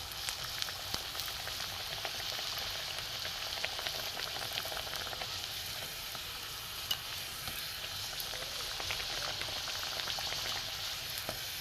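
Continuous close sizzle and bubbling of jackfruit kachori, made from semolina, flattened rice and flour dough, deep-frying in hot oil, with faint occasional clinks and no talking over it.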